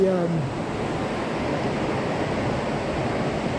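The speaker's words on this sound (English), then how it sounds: "then you got your more rapid flowing river over here" A rapid river rushes past in a steady, full hiss of flowing water, close and continuous, with a brief voice at the very start.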